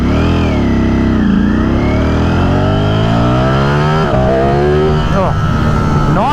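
A Brentuned Ducati Streetfighter V4S motorcycle revs and accelerates hard through rising gear pulls while lifting into light wheelies, loud and close, with a voice talking over the engine.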